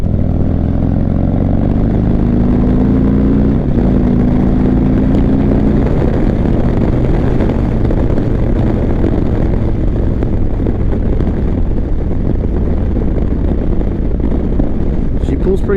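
A 2022 Harley-Davidson Street Glide Special fitted with a 131 Screamin' Eagle kit pulls hard under acceleration, its V-twin rumble dense and continuous, rising through short-shifted gears with steady wind noise throughout.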